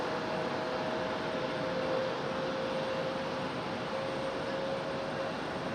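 A United Airlines airplane passing at Raleigh-Durham International Airport in stormy weather, a broad, steady, loud roar held evenly throughout with a faint whine riding on top.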